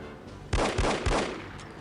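Three quick, loud gunshots crack out in close succession in the spy shooter game No One Lives Forever, each followed by a short ringing tail.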